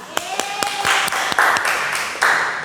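A classroom of students claps together during a physics lesson, a short burst of sharp, close hand claps forming a quick rhythmic volley with some voices.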